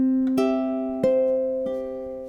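Ukulele strums bar 7 of a song, four even quarter-note chords ringing close and clear, each strum decaying into the next.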